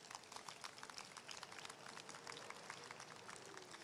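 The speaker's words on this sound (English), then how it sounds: "Can we have applause for Pannir's poem?" Applause from a crowd at a candlelight vigil after a poem is read, a faint, steady patter of many hands clapping with no talking.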